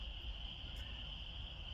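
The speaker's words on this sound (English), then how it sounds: "I can hear the crickets" Crickets chirp outdoors on a mild, breezy day: a steady, unbroken high chirring drone, faint and even throughout, with no voices.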